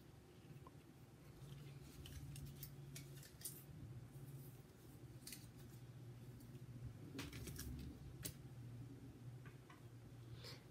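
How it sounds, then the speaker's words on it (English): Scissors cutting out fabric pieces for a quilt border make faint, close snips and ticks in irregular bursts over a low steady hum, no voices. "Okay, so I'm going to cut out these pieces."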